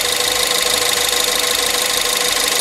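A Ford Fiesta MK7 ST engine idles steadily under the open bonnet, a continuous loud hum with a bright hiss from belts or fan running throughout, no voices.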